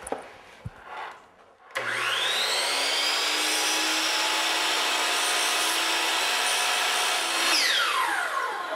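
A miter saw cuts through crown molding: a sharp click, then the motor spins up to a loud, steady whine as the blade bites the wood for several seconds before winding down at the end.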